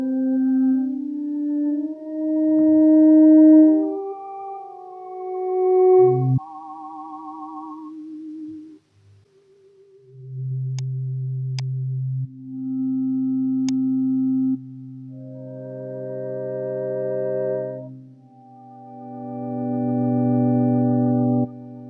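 Additive synthesis in Reaktor produces pure sine partials, some with vibrato wobble, entering and fading as stacked steady tones and single low drones, clean and electronic with gaps of near silence and no voices.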